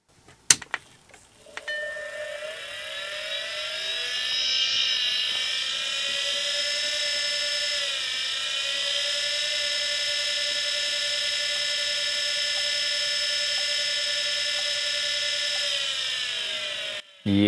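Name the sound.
failing hard drive with a head crash, held near microphone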